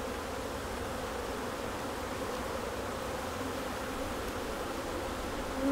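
Honey bees buzz steadily on a hive frame during a hands-on beekeeping session, a dense, continuous drone of many active insects close by with no talk over it.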